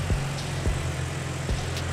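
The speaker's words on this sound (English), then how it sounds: "I'm going to let y'all hear how it runs. Y'all hear that? How quiet that is." A Dodge car engine idling quietly in a shop, a low steady hum with faint periodic thumps roughly every three-quarters of a second, heard alone without talk.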